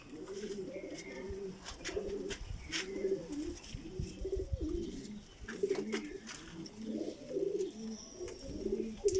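A pair of Rampuri pigeons coos steadily in soft, repeated low rounds, close and fairly quiet, with no voices.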